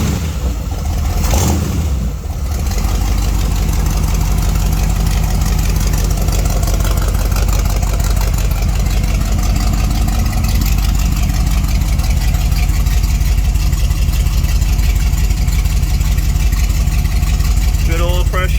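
Chopped-top Checker Aerobus engine with glass pack exhaust runs steadily and loud at a smooth idle, a continuous low rumble with a brief rev near the start and talk over it.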